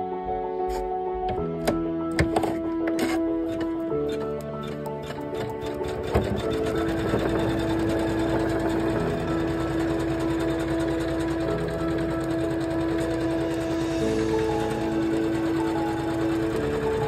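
An embroidery machine stitches with white thread, a loud, steady mechanical whirr with a rapid needle rhythm that starts after a few halting stops and runs continuously.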